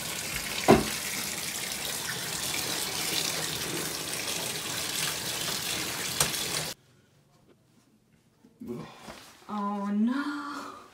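A hose runs hard, washing off smelly gear on an Appalachian Trail hike: a loud, broad gush that cuts off abruptly, followed by near silence and then voices talking.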